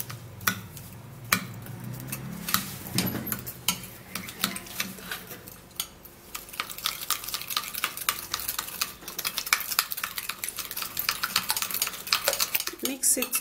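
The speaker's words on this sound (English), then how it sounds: "then I will try to mix it up" Sugar, honey and apple cider vinegar being mixed in a bowl, giving repeated scraping and clinking of a utensil against the container in uneven bursts, close and fairly loud, with no talking.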